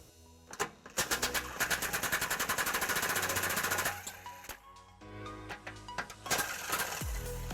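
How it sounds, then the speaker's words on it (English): Bolts come off a trailer wiring bracket on a 2003 Lexus LX470, driven with a 12mm socket: loud, close bursts of rapid mechanical rattling with short pauses and a final clunk, no talking. "Now, this bracket is held in by 2 bolts. We're going to remove those using a 12mm socket."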